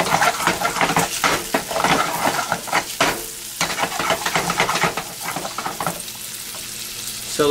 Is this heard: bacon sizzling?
yes